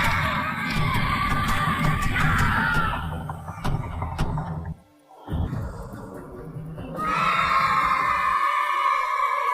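A group of Vikings scream and yell together to scare off a wolf, a loud chaotic mass of shouting voices that drops out briefly midway, then resumes at full strength.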